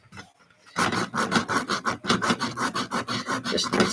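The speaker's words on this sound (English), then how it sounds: "I'm going to sand this down a little" Sandpaper rubbed back and forth over a small handmade craft piece, a steady rhythmic rasping of quick strokes, loud and close, starting after a brief quiet moment.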